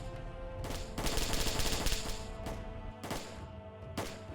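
Bursts of rapid gunfire from infantry at a reduced rate and a Puma vehicle at maximum rate in the VBS4 military simulation come in several close, loud volleys, with short gaps between them.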